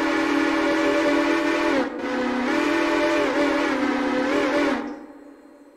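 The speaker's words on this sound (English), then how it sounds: "We got a New Haven 6 chime." New Haven 6-chime train whistle from the Railroader video game blowing a loud, sustained near blast with a brief dip partway, holding steady before cutting off abruptly; no voices.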